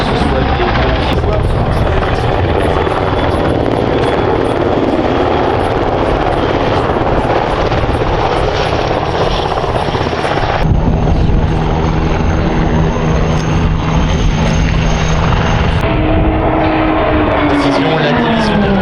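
A helicopter flies at the Air Legend 2024 air show, its steady rotor and engine roar loud and continuous throughout, shifting in pitch as it passes, with a commentator talking over it.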